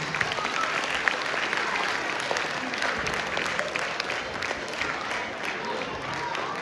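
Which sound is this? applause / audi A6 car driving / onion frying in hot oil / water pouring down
applause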